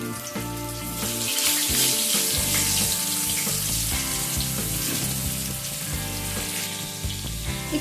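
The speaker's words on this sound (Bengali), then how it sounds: "এবার আলুগুলোকে তেলের মধ্যে দিয়ে দিচ্ছি" Potato pieces frying in hot oil seasoned with salt and turmeric give a loud, dense, continuous hiss and crackle that stays steady from start to finish, with no voices.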